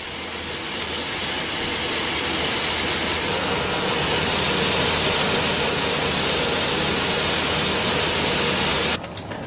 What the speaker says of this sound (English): They are wound off the cones onto bobbins